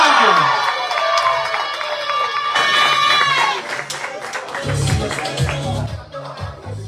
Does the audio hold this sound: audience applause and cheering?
yes